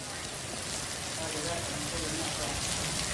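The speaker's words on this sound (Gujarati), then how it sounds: "ભારે વરસાદ પડ્યો છે।" Heavy rain falls steadily in Manavadar, Junagadh, a dense, even hiss of drops on surfaces that holds constant with no breaks.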